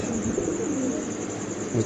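Racing pigeons at a pigeon farm coo steadily in low, throaty rolls, close by and continuous, with a faint hiss in the background.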